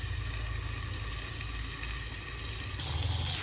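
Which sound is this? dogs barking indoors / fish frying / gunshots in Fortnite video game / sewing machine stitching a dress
fish frying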